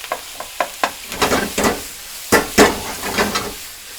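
Kadai vegetables stir-frying in a wok over a high flame, with a run of sharp scrapes and tosses sounding over a steady sizzle, close and fairly loud.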